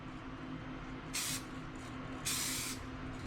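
Two short bursts of Plasti Dip from a spray can hiss out close by in quick succession over a quiet room hum.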